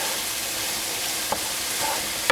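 Vegetables softening in sesame oil in a pan give off a constant close hiss of frying. One or two faint clicks from a utensil come near the end, and nobody speaks.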